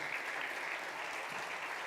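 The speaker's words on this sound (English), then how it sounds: "Round of applause," An audience applauds at a business-management panel event, giving a short burst of steady, soft clapping heard from a distance.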